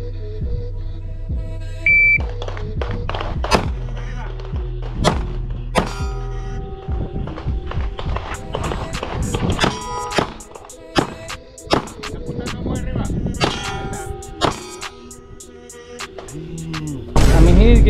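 A Taurus pistol fires a timed round of nine shots, sharp cracks in an uneven rapid series with ringing metallic hits between them, close and loud.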